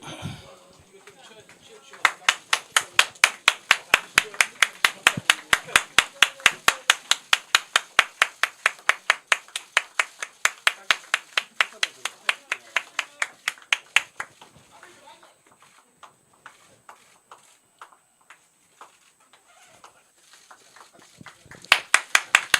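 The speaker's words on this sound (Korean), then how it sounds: "우리 당원 여러분 박수 한번 주세요" Party members at a Korean political party rally clap together in a steady, loud burst of applause lasting most of the stretch, thinning out into scattered claps before a short final flurry.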